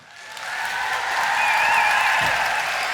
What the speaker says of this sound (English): a warm round of applause as you welcome to the stage Dr. Ken Berry.